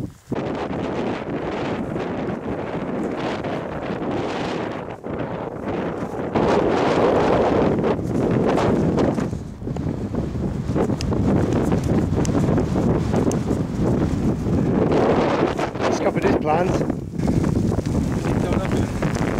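Strong gusty wind buffeting the microphone on a foggy Dartmoor moorland hike, a loud continuous roar that surges and eases throughout, with voices briefly audible beneath it.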